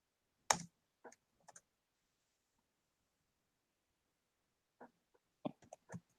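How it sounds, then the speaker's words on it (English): Sparse computer keyboard typing with two fingers: a few isolated clicks and short bursts of keystrokes separated by long silent gaps, close and fairly quiet. "You are typing with 2 fingers, aren't you?"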